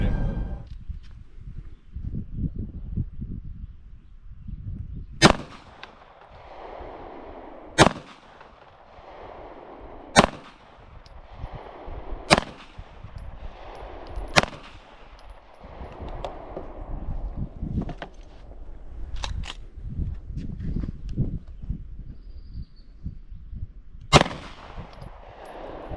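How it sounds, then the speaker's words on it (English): A Ruger X Magpul RXM rifle fires outdoors, about eight loud, sharp single shots spaced a few seconds apart, each with a quick ringing decay, over low rumbling background noise and no talking. "real smooth shooting"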